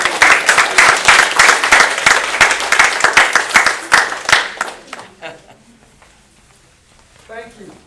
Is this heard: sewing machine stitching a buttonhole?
no